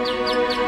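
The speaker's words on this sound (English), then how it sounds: "a series of cogs, ropes, and pulleys made the bird sing when the wheel was turned" Heron's mechanical bird automaton, driven by cogs, ropes and pulleys, sings three repeated high chirps in a steady rhythm over a sustained, even tonal drone.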